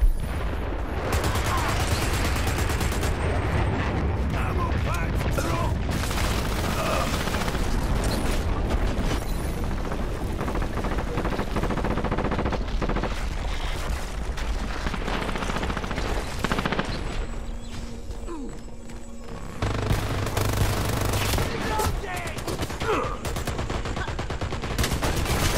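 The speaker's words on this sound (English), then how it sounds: "Fire support incoming!" Heavy gunfire and booming fire-support blasts in the online shooter Dirty Bomb, a dense, continuous barrage of shots and impacts with brief lulls, loud and close throughout the battle.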